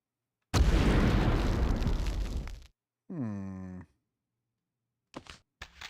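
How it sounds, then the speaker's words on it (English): A grenade explodes in the video game Medal of Honor with one loud, close, rumbling blast that fades over about two seconds. A short tonal voice-like sound and a few brief clicks follow. "I'm just using the grenades as a flashlight."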